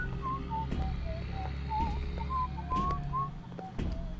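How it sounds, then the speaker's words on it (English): Whistling melody in the video game Bioshock, a series of short clear whistled notes rising and falling over a steady low ambient hum, moderately near and without talk. "who's whistling?"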